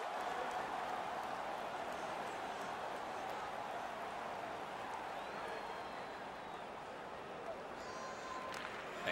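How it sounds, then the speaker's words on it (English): Home crowd noise from an NHL 18 hockey game, a steady broad roar of cheering fans that holds at even loudness throughout, with faint commentary-like voices beneath. "The home crowd jumps to their feet."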